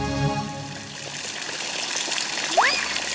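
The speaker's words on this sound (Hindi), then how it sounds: "जिंटू पानी डालो" Water gushes and splashes onto a fire in an animated robot-boy cartoon, a steady rushing pour with a short rising whistle-like effect near the end.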